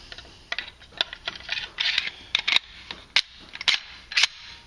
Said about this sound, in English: Place our barrel back in the slide, guide rod, and recoil spring, and then feed it back on